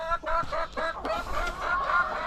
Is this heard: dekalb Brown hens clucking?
yes